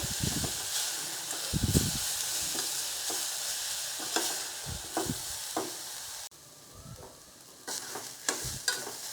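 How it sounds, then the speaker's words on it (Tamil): Grated carrots stir-fried in a pan for carrot payasam, with a continuous close sizzle and repeated scraping and tapping of a spatula as they are stirred. "கேரட்டில் உள்ள பச்சை வாசனை போகிற வரைக்கும் வறுத்து எடுத்துக்கிறலாம்."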